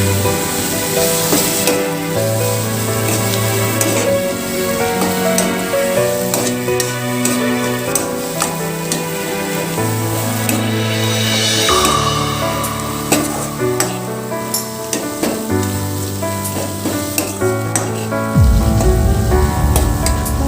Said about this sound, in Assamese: মছলাখিনি ভাজা হৈ গৈছে।